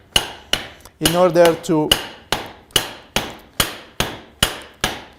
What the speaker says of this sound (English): Now, with the hammer, he can hit